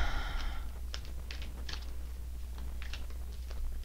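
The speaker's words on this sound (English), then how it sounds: "I'm getting no cues to stop shuffling." A deck of tarot cards is shuffled close up, with soft, quick riffling flicks and light slaps in irregular bursts over a low steady hum, and no talking.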